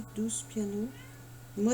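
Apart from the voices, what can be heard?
pet cat meowing, crying like a baby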